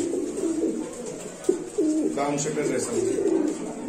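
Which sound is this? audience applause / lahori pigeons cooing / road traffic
lahori pigeons cooing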